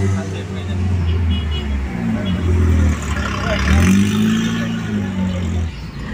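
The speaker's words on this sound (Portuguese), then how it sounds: "Tá um pior alvoroço de moto, de carro pra lá e pra cá" Motorcycles and cars pass to and fro on a busy street outside a school, engines rising and fading nearby as they go by, with people talking over the traffic.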